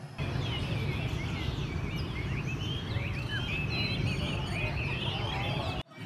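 Caged songbirds sing at an outdoor bird cafe in Tao Dan Park, Saigon, with scattered bright chirps and trills laid over a dense, steady wash of background noise.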